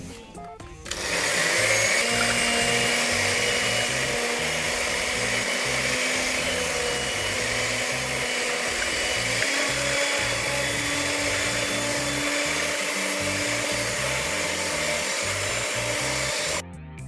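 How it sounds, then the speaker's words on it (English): An electric whisk runs steadily for the whole stretch, beating eggs in a bowl for Italian aniseed biscotti until light and frothy. The motor whine stays loud and even throughout, with nobody talking. "give our eggs a good whisk for about 1 minute until they're"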